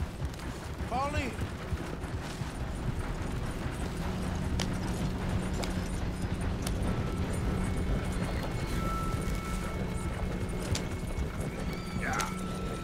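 Horse hooves clip-clop at a steady rhythm in Red Dead Redemption 2, with a whinny early on, occasional gunfire-like cracks and voices talking over the riding.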